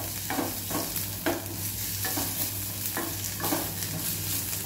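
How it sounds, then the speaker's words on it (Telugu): Cumin, green chilli and curry leaves sizzle in about two spoons of hot oil as a tempering for coconut chutney, a steady crackling fry broken by rhythmic scrapes of a stirring spoon roughly every second. "కొబ్బరి చట్నీకి 2 స్పూన్ల ఆయిల్, ఆల్రెడీ పచ్చిమిర్చి 1 స్పూన్, జీలకర్ర, కరివేపాకు వేసి ఇలాగ చిటపట"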